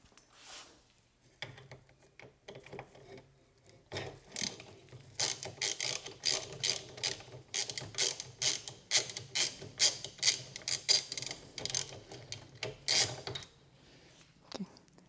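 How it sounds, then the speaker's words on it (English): A ratchet socket wrench with a 6 mm hex socket clicks in quick repeated bursts while loosening the pedal on a Trek FX aluminum bicycle, close and crisp, with brief pauses between strokes. "In order to remove the pedal, I'm going to be using a 6 millimeter hex socket."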